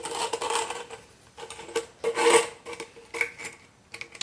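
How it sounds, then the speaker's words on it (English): Hose clamp sliding onto black intake tubing for a diesel heater on an overland trailer, giving soft scraping and rubbing sounds in several short bursts, close and fairly quiet, with no talking. "And then we'll slide our clamp on."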